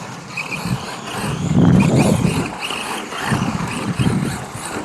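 A Tamiya TT-02 rally-converted RC car laps a track and drifts, giving a close electric whine that surges and fades with tyre scuffing as it passes and turns.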